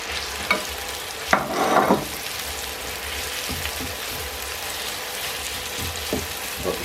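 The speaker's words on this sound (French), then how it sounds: "On peut ajouter l'oignon." Onion frying in melted butter in a pot while being stirred, a steady close sizzle with a louder burst of scraping and spattering early on and occasional light utensil clicks.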